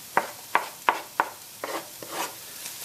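Chilli being stirred into cooked garlic and ginger in a pan, four sharp scraping strokes at a steady pace followed by softer shuffling stirs, close and clear with no talk.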